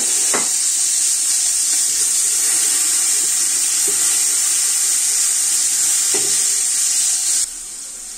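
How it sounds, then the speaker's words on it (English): Onions dropped into a hot pan for spinach soup, a loud continuous hiss that holds steady for about seven seconds, with a few faint clinks and taps, then a sudden fall to quieter sizzling. "Let's just add my onions."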